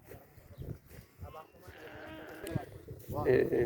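At a crowded livestock market where goats are bought for Eid sacrifice, a goat bleats in quavering cries that grow louder toward the end, mixed with people talking nearby.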